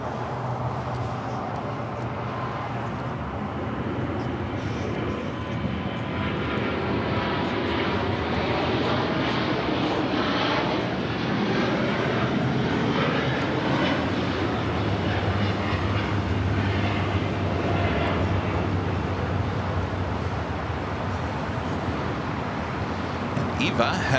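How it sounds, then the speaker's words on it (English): An Air Premier Boeing Dreamliner airliner takes off at LAX, its jet engines giving a steady, loud, broadband roar that swells slightly and holds for the whole stretch, with low voices faintly beneath. "the Air Premier Dreamliner about to take off here."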